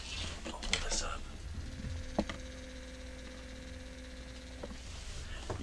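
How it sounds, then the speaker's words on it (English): A small motor spins inside a flaming pumpkin Halloween decoration, making a faint, steady electric hum for a few seconds, with light handling knocks around it. "There's a little motor in there"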